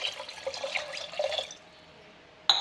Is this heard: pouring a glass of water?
yes